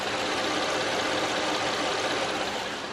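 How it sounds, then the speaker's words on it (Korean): A car's V6 petrol engine idles steadily and evenly throughout, close and fairly loud, with a smooth low drone and no changes in pitch. "엔진 소음 먼저 들려드리면은"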